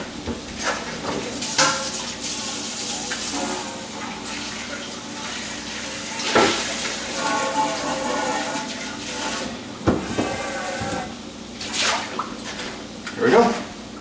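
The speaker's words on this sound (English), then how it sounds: "Just gotta rinse it out because there's things living in it." A large cooking pot is rinsed out with running tap water, with splashing gushes that rise and fall over several seconds, close by, and bursts of louder sloshing.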